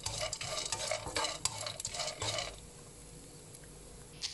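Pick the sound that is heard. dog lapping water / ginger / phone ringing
ginger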